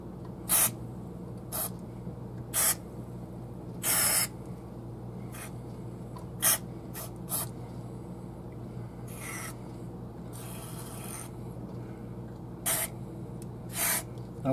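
Repeated short hissing spurts of electronics cleaner from an aerosol can into a Carvin guitar amplifier, irregularly spaced, close and fairly loud against a low steady hum.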